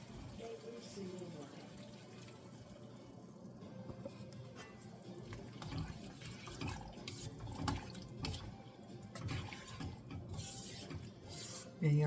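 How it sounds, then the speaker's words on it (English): Heavy cream poured into a pan of Cajun pasta with chicken, shrimp and sausage gives a soft, continuous liquid trickle and faint sizzle, fairly quiet amid kitchen background. "I'm going to add about a cup of heavy cream"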